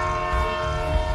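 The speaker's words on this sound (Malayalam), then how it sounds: "കേൾക്കുന്നില്ലേ ട്രെയിനിന്റെ ശബ്ദം?" A train sounds its horn beside a railway line, a sustained loud blaring tone with rumbling underneath throughout the short stretch, no voices.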